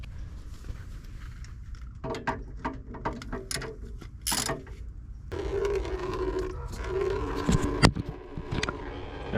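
A ratchet loosening the coolant drain plug on a radiator of a 4th-generation V6, with bursts of quick metallic clicking, a scrape, then a rougher grinding turn, close and under no talk.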